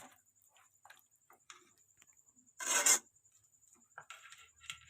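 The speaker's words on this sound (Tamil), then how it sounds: "நல்லா கிண்டி விட்டுக்குருவோம்." A spoon stirring chicken kurma masala in a pan with added water, scattered soft scrapes and clinks and one louder rasping scrape midway, close and quiet with a faint steady hiss behind.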